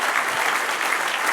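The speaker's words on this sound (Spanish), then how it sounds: "Dale un aplauso, Señor." A church congregation bursts into a short, dense wash of applause, many hands clapping together at once, with no voices heard.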